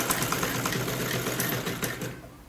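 A sewing machine stitches the seam of a salwar poncha (trouser hem) in a loud, rapid, steady whirring run close by, then stops abruptly near the end.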